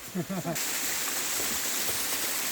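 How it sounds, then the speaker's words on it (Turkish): A rushing waterfall on a nature walk, a steady broadband roar of falling water close by, with a brief burst of voices talking at the very start before the water dominates. "Şu meşhur şelalemiz bu."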